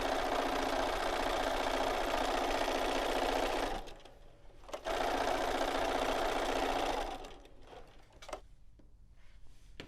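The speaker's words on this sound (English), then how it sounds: "I'm going to go ahead and sew a little bit of this around" Sewing machine quilting fabric into a square within a square: two runs of fast, even needle chatter, close and clear, broken by a short pause and ending in lighter handling clicks.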